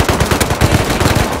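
An MP5 submachine gun fires in the survival game Rust, a steady loud burst of about a dozen rapid evenly spaced shots close up.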